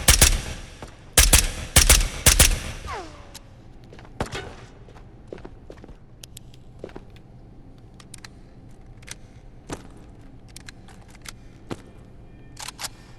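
Gunfire in the VR shooter Ghosts of Tabor opens with rapid bursts of loud, close shots, then gives way to sparse single cracks and clicks scattered over a quieter stretch.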